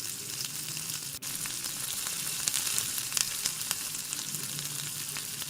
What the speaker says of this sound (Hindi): अब सिंपल हमने अंडे का जो इसको कोट किया है इसको हल्का सा फ्राई करना है।